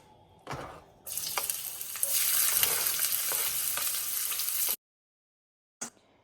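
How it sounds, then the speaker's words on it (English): Onions frying in a quarter cup of vegetable oil in a wok over medium-high heat. They hit the oil with a loud, steady sizzle that holds for a few seconds and then cuts off abruptly, with a brief clatter afterward. "Add a 1/4 cup of vegetable oil into the wok, put it on medium-high heat, and when it's warm, we're gonna put our onions in"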